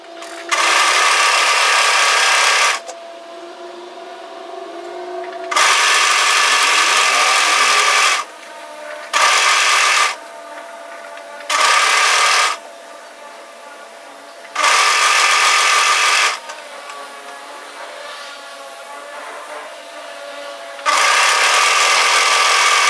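Sewing machine stitching the side seam of a knit teddy jacket down to the hemline, running in loud bursts of a few seconds each separated by short pauses, with no talk.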